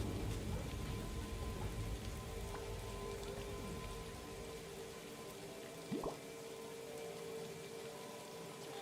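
Rain in the video game Disney Dreamlight Valley, a soft continuous patter of falling drops with a faint low rumble, quiet and even throughout, and a brief rising tone near the end.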